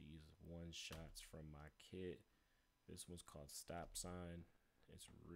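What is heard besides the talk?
No everyday noises stand out.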